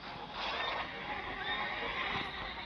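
A horse in the video game Steel and Flesh 2 whinnies in a drawn-out call over a busy game soundscape, with faint hoofbeats mixed into the background.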